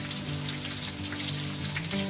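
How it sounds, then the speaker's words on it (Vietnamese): Tofu skin frying in a pan gives a steady, dense crackling sizzle that continues unbroken throughout, close and fairly loud, with no voices. "Bây giờ mình đang tiến hành là mình chiên đậu khung lên"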